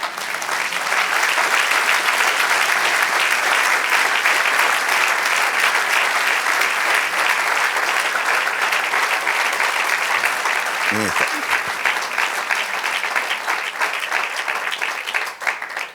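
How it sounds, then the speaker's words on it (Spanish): Church congregation gives a long, loud, sustained round of applause lasting about sixteen seconds, with a brief voice surfacing near the end. "Eso merece un aplauso al Señor."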